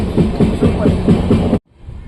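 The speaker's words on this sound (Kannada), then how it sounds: "ನಮ್ಮ ಟ್ರೈನ್ ಈಗ ಮೆಜೆಸ್ಟಿಕ್ ರೈಲ್ವೆ ಸ್ಟೇಷನ್ಗೆ ಎಂಟ್ರಿ ಆಗ್ತಿದೆ" A train rolls into Majestic railway station in Bangalore, a loud, close rumble with rhythmic clatter that cuts off suddenly, leaving faint background noise.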